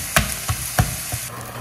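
Food sizzles in a hot frying pan, with several soft, rhythmic stirring or pressing bursts over a steady close sizzle. No voices are heard.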